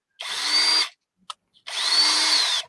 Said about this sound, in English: Nothing wrong with that drill.